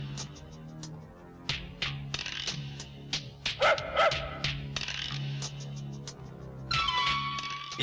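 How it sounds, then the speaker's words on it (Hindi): A dog barks inside an office in a Hindi film scene, giving a series of sharp, fairly close barks with a brief whining stretch midway, set against quiet room noise and a few other clatters. "ऑफिस में कुत्ता लाने का क्या मतलब है?"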